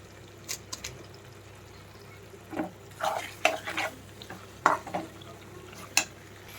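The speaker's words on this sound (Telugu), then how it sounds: "మగ్గిపోయిన తర్వాత ఇందులో ఆచి చికెన్ మసాలా వేసుకున్నాం. వేసుకుని కలుపుకుందాం." A spoon stirs Aachi chicken masala into a pan of raw prawn and softened raw mango curry, giving intermittent scraping, clinking strokes and wet squelches over a faint low sizzle, close and irregular.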